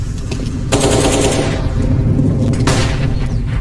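Rapid automatic rifle fire from AK rifles rattles loudly through a CS:GO match between FaZe and Furia, with two dense bursts of shots and game ambience beneath, no talk.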